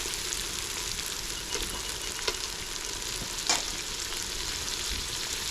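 Tomatoes frying in a pan with ginger garlic paste for a curry, a steady close sizzle with occasional stirring scrapes and clinks, no talking.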